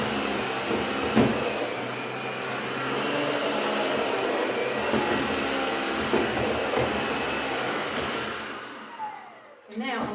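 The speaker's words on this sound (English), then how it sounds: "So this is how it looks when I vacuum like this." A Miele Triflex HX1 cordless stick vacuum cleaner whirs steadily at close range for most of the clip, then winds down near the end.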